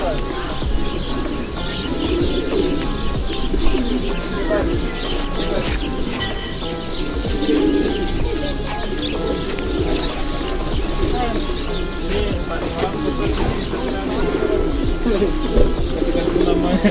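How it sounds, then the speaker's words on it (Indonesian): Pigeons in snowy Pigeon Valley, Cappadocia, with soft cooing and scattered chirps running steadily through a busy outdoor ambience, mixed under people talking nearby. "Ini burung-burung dara."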